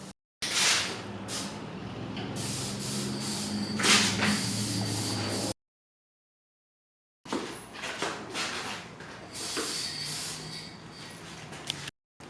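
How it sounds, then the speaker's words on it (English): A spray can sends plastic adhesion promoter out in two long hissing bursts, close and loud, with pulsing strokes and a brief silent break between coats. "hit it with 2 coats of plastic adhesion promoter, and then move on to the primer."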